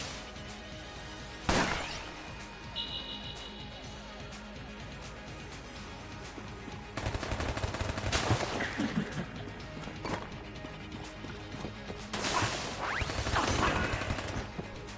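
The gore gun firing in Enter the Gungeon, sharp bursts and shattering crashes that come in clusters over a steady game backdrop, loud and up close.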